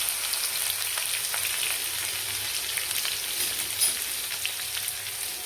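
Garlic sizzles steadily in hot oil with cumin seeds and curry leaves, making a loud, continuous hiss and crackle with no talk.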